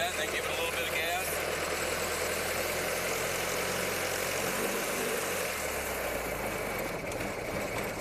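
A 1927 Ford Model T engine runs in a steady, unbroken mechanical drone from start to finish, with a low idle-like rumble that shifts slightly in pitch partway through.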